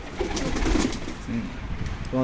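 Pigeons on a farm coo in low, soft throaty notes close by while pecking at grit, brief and murmuring with a fuller coo at the end.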